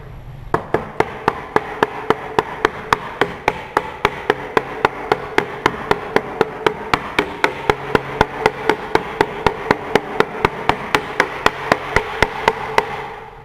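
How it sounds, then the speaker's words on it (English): A dead blow mallet taps a wooden dovetail joint together, delivering a long, steady series of evenly spaced, sharp knocks, close and clear with no talking. "This is a wonderful template, but I'm going to use a dead blow. I'm not going to go all the way down."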